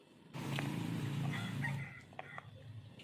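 A sick chicken with a cold breathes with a congested, rattling snore, repeated raspy wheezes close up against a quiet background.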